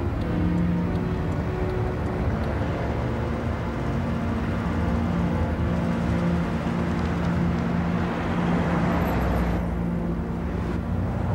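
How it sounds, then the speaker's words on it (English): Engine and road noise from a car driving along the road, a steady, close, continuous hum and whir with slight swells, heard alone without talking. "It's that car, isn't it? The one that's been following us ever since we left Dad's place."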